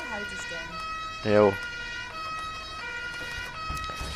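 Ambulance siren from the bus simulator OMSI 2, a brief, loud wailing sweep rising clearly over steady engine and road hum, with a short spoken word nearby.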